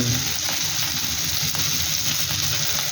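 Garlic fries in a pan for adobo with a steady, close sizzle and bubbling that continues evenly and fairly softly throughout the short stretch.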